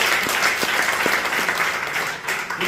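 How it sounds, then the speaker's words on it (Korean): Applause from a church congregation at a Korean Christian 140th-anniversary thanksgiving festival, a steady, dense wash of many hands clapping throughout, fairly loud and close. "우리 한번 박수 한번 축하 한번 해주세요"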